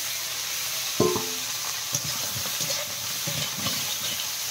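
Crabs fry in a pan with chili powder, giving a steady sizzle with a few clinks of a spoon or utensil against the pan, moderately close.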